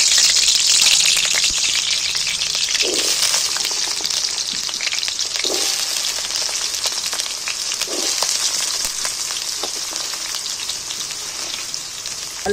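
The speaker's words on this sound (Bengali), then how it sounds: "এবার তেলের মধ্যে ভালো করে লাল লাল করে আলুগুলোকে একটু ভেজে নেব।" Diced potatoes frying in oil in a kadai, a steady loud sizzle with crackling throughout, plus a few soft stirring knocks at intervals.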